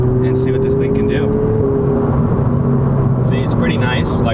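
A 2020 Honda Civic Si in sport mode cruises at highway speed, with a constant engine drone and road roar heard from inside the cabin while a person talks over it.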